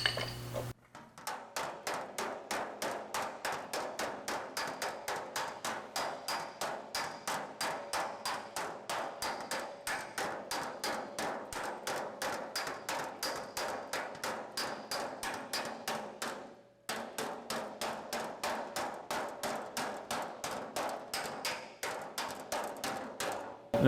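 A hammer beats against a dolly held under an aluminum shroud from an Austin-Healey 3000, a steady run of rapid metallic taps that keeps going for over twenty seconds with one short pause near the middle.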